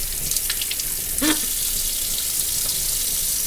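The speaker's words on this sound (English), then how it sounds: "Why are you running water?" Kitchen tap water runs steadily into a sink for washing raw liver, a constant hiss with a faint splash partway through and no talk over it.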